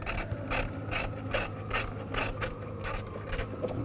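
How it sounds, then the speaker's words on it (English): Ratchet clicks from a socket wrench with an 8mm socket loosening a cover bolt on a 2000-06 Chevy Tahoe, a close, loud series of rhythmic ratcheting bursts repeating roughly every half second. "I'm going to remove this cover using an 8mm socket."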